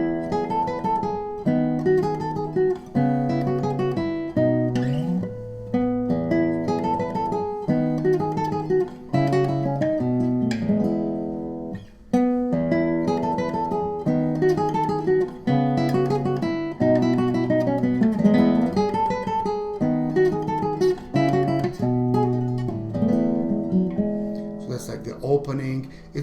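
Guitar playing the opening of an original piece, a repeating pattern of plucked chords and melodic phrases with a full, majestic feel, moderately loud and steady, no talking over it.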